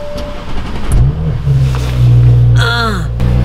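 An Audi S4 saloon's V6 engine with Tiptronic gearbox rumbles close by at a low, lumpy idle, rising briefly in pitch as it revs, with a short whine near the end.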